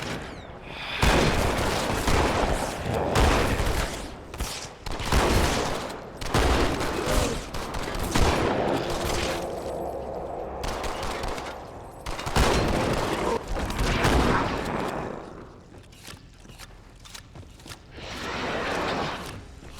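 Sustained gunfire from the video game Halo 2 Anniversary, loud and dense bursts of rapid shots and booms that keep going almost without a break, with short lulls between heavy volleys.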